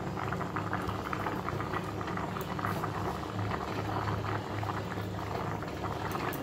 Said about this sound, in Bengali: দেখো চাল ডাল কিন্তু বেশিরভাগ সিদ্ধ হয়ে গেছে